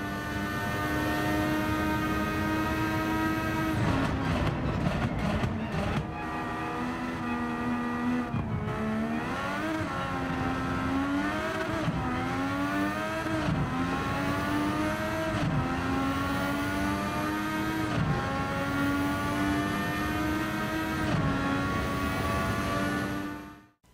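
A McLaren MP4/4 racing car engine roars steadily from onboard in Gran Turismo 7 at Interlagos, revs rising and falling through gear changes, loud and continuous with no talking.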